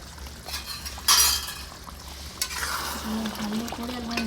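Chicken gravy in a pan stirred after crushed kasuri methi is sprinkled in, a close scraping stir over a soft sizzle, with a sharp clink of utensil against the pan near the start and a faint tone toward the end.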